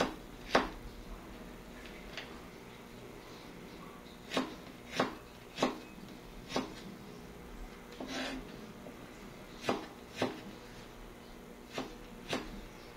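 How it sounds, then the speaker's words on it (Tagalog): Knife slicing ginger thinly on a cutting board for sinigang na bangus, a series of distinct chopping taps spaced irregularly, about a dozen strokes, moderately close over faint room noise. "Hiwain lamang natin ito ng maninipis."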